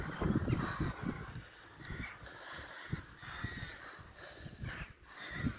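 Crows caw repeatedly from nests in trees around a stone tower in Dumfries and Galloway, overlapping harsh calls at close to moderate distance, with steady rustling ambience.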